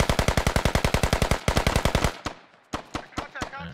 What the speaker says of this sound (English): Biff Tannen's gonna be the first one to get shot at.